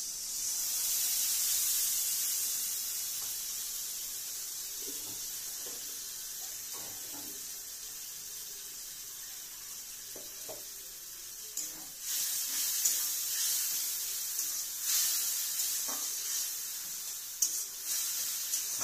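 Onions frying with ginger and being stirred in a pan for a home-made biryani, a steady soft sizzle and hiss throughout with occasional scraping stirs, louder toward the end.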